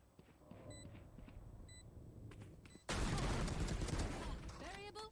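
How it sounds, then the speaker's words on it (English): Swarm grenade ability going off in a shooter video game: a few faint beeps, then a sudden loud burst of crackling, popping blasts that fills the last two seconds, with warbling tones near the end. "Swarm grenade."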